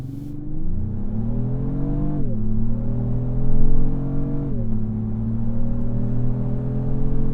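A 2025 Lexus GX 550 Luxury+ 4WD pulls away from a stop and accelerates uphill, its engine tone rising steadily, then dropping with each unhurried upshift of the 10-speed automatic, loud and close from inside the cabin.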